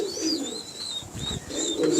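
A pure Kasuri pigeon coos softly and close by, low throaty murmurs repeating over about two seconds against faint background bird chatter and hiss.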